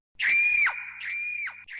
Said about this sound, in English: He heard a loud scream